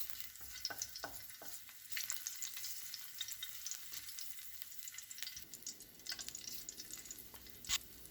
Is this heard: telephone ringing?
no